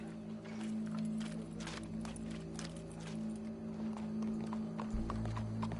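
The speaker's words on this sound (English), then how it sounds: "Go brush that horse, officer." Horse hooves clop steadily on a hard surface, a regular walking rhythm heard over a constant low hum and background murmur, with a deeper rumble entering near the end.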